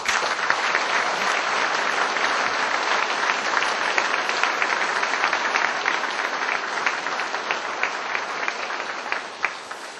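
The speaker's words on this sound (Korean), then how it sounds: "여러분 박수 한번 쳐주시죠." Sustained, loud applause from a large audience at a police chief's retirement ceremony, dense continuous clapping holding steady for the full ten seconds with no talk over it.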